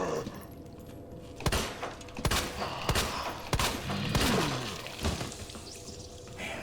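Gunfire in Resident Evil 2 Remake comes as a series of loud, sharp shots spaced about a second apart over a dense, noisy game soundscape.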